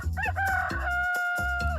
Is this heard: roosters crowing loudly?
yes